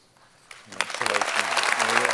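Applause rises quickly and holds steady for an honorary degree recipient at a University of Brighton graduation ceremony. It sounds like a full hall clapping together.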